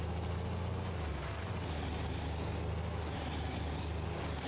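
A vehicle engine in Farming Simulator 19 runs steadily with a constant low drone and broadband noise, fairly loud and unbroken throughout, with no voices over it.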